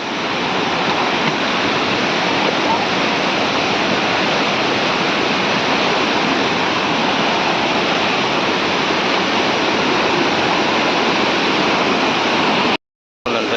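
Water rushes down a waterfall in a loud, continuous broadband roar, steady throughout and close to the listener, with a brief dropout near the end.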